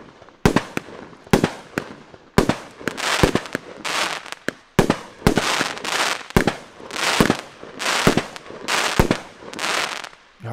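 Discount-store firework battery of 25 mm shots firing a rapid series of loud bursts, each launch thump followed by dense crackling strobe effects, roughly a dozen evenly spaced volleys with no talk.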